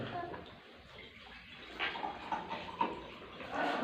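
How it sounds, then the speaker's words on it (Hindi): Water poured into a plastic bottle, a continuous rushing, splashy fill with brief bubbling surges, heard close in a room under faint background noise. "अब इस बोतल में पानी भर दें"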